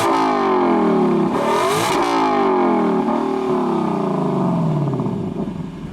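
A 2021 Lexus LC500 Convertible V8 revving hard, its exhaust note rising and falling through several loud, sweeping revs heard close up, then easing off toward the end.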